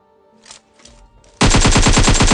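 Sustained automatic AKM rifle fire in PUBG, loud and rapid with an even rhythm, bursts in abruptly after a second of faint quiet game sounds and runs to the end.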